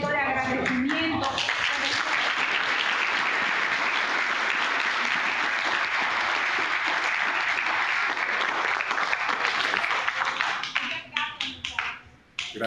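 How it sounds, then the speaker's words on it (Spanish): Students rise for a standing ovation at a conference on the Fourth Industrial Revolution: dense, sustained clapping from a large audience that fills the room for about ten seconds, then thins into a few scattered claps. "Los estudiantes quieren darle un aplauso, pero de pie, de manera de respeto, de agradecimiento."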